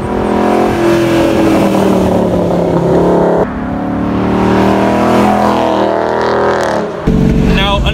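A 2014 Ford Mustang GT's Coyote V8 engine revs hard and pulls through the gears, its roar rising in pitch, dropping at each shift, then climbing again.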